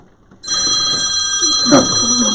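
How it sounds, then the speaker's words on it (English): A telephone rings loud and close, a sustained electronic trill that starts abruptly and holds steady through the clip. "That's another phone is ringing."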